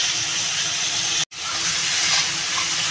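Prawns frying red in a pan for a Bengali prawn and elephant foot yam curry, a steady close hiss and sizzle with one brief dropout partway through.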